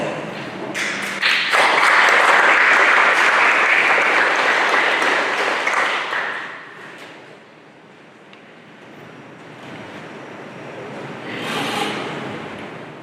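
Audience applause at a Houston Community College celebration of learning for design, illustration and sustainable agriculture students swells loudly for several seconds, tapers off, then rises again in a smaller second wave.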